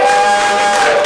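A comedy club audience cheers and shouts in a vote, a loud, dense wall of crowd noise held for about a second.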